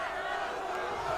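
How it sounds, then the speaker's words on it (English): A jiu-jitsu championship crowd in an arena swells into a chant, a broad sustained roar of many voices, loud and continuous across the short span. "You can hear the crowd starting to chant."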